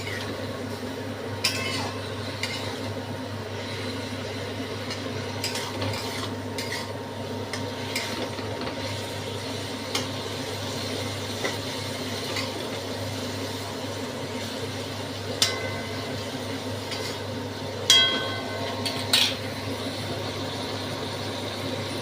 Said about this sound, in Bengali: গ্যাসটা বাড়িয়ে দিলাম, দিয়ে একটু জলটার সাথে মেশাবো মশলাটার সাথে